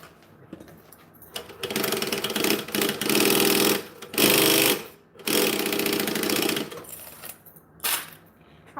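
A sewing machine stitches in several bursts of fast, rattling mechanical whirring, close and loud, with short pauses between runs.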